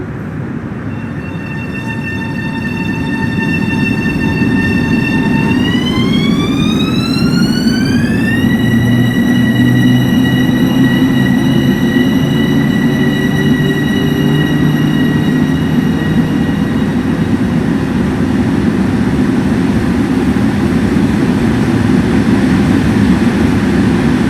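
A Metro North Railroad M7A electric train passes close, its steady loud rumble overlaid by rising whining motor tones that climb in pitch and then hold, sustained for over twenty seconds without speech.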